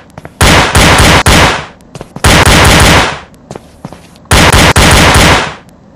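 Very loud, close gunfire in the mobile shooter Bullet Strike Battlegrounds comes in three long rapid bursts, separated by scattered single pops and brief quiet gaps.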